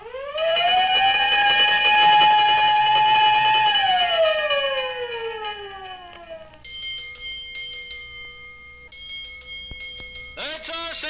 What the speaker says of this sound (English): fire siren.